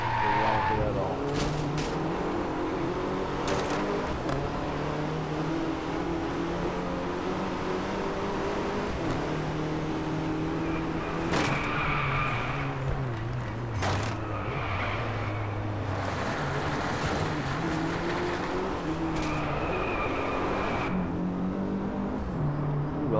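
A Mercedes AMG race car in DriveClub roaring continuously close by, engine pitch rising and falling through gear changes with recurring bursts of tire skid noise, a voice talking over it at times.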